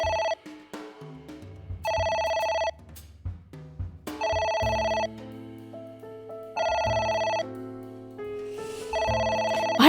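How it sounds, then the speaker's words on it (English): A telephone rings on and off in a mystery video game, loud repeating bursts of an electronic ringtone with a musical tune playing between the rings. "Can't you mute your phone, lady?"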